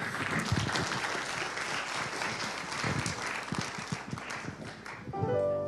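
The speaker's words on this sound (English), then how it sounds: "Let's give him a hand clap of praise." A church congregation gives a hand clap of praise during a revival service, dense steady clapping filling the room for several seconds before a brief tonal swell near the end.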